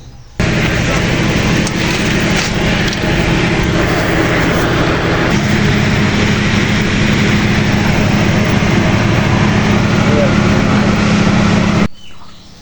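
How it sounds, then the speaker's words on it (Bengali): A passenger train pulls out of Bhanga Railway Junction with a loud, steady rumble of engine and rolling wheels, a low sustained horn-like tone running under it for about eleven seconds before cutting off. "এবার ট্রেনে হুইসেল দিয়েছে, ট্রেনটি ছেড়ে দিয়েছে।"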